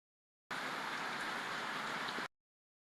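Steady rain falls in a continuous, even hiss, close and moderately loud, with no voices heard.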